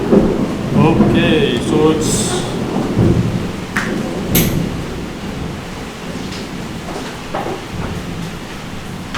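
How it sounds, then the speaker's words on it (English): Thunder rumbles during a lightning storm, with low rolling booms and sharp cracks under steady rain, while someone speaks briefly near the start. "it is lightning and thunderstorms, it has started."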